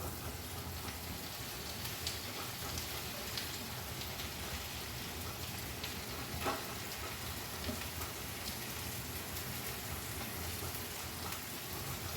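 Punarnava greens hit a hot pan and fry with a dense, steady crackling sizzle that holds at an even level throughout, with no voices.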